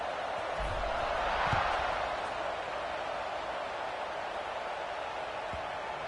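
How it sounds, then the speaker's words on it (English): A stadium crowd at an American football game buzzes after a touchdown, a continuous broad roar of many voices with a slight swell near the start and a few low thuds, steady and moderately distant. "this crowd is buzzing after that last score"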